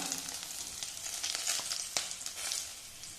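Garlic, ginger, green chillies and curry leaves fry in hot oil, a continuous crackling sizzle with small spitting pops throughout, close and fairly quiet.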